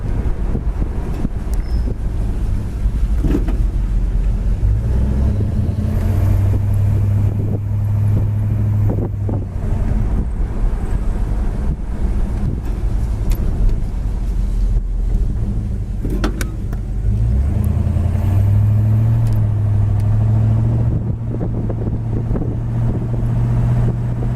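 A 1964 Chevy Chevelle red convertible cruises down the road, its steady engine drone and tire roar blending with constant wind rush in the open cabin, no talking heard.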